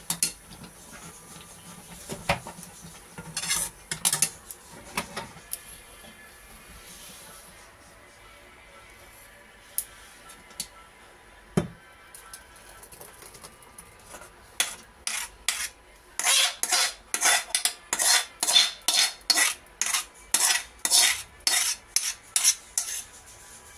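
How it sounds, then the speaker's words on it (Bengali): Mango payesh being stirred and poured out of a metal pot, with a spoon scraping against the pot in scattered strokes that turn into a fast, steady run of close scrapes near the end. "এবার আমি আস্তে আস্তে এটাকে ঢেলে নেব।"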